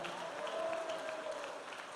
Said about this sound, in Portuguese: Quem concorda e crê, aplauda ao Senhor Jesus e dê glória